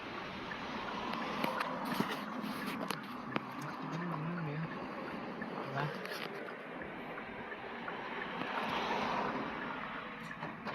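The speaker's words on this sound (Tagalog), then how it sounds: "Pero ang lakas ng alon, no?" Strong waves surge and wash along a developed coastal spot in the Philippines, a continuous roaring swell rising and falling under wind noise, with people talking over it.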